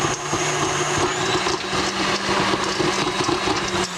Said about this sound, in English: Now, I've got it in my blender.